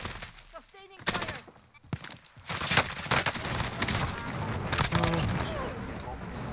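Rapid bursts of automatic gunfire from the Warzone video game, dense and crackling, with a few single shots first and then sustained fire through the rest of the clip.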